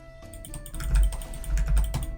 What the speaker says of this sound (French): J'adore le bruit de ton clavier.